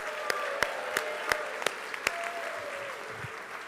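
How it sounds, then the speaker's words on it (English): At the 2023 Panther Awards ceremony, a room applauds three basketball seniors: a soft bed of distant clapping with a series of sharp, evenly spaced claps close by, tapering off toward the end. "So let's give them a round of applause."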